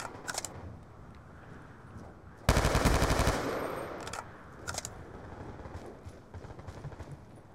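Gunfire in the Black Ops II video game, with a loud burst of rapid automatic fire lasting about a second, then scattered single shots and clicks afterward, close against a quiet background.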